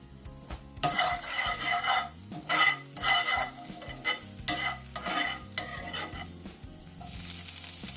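Chili oil hits a hot pan of shrimp and sizzles loudly, surging in repeated bursts as a utensil stirs and clatters against the pan, then settles into a steadier hiss.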